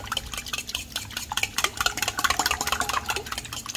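Eggs, crème fraîche and milk whisked in a bowl, a fast, steady clatter of the whisk against the sides that quickens and grows louder, heard close with no voices.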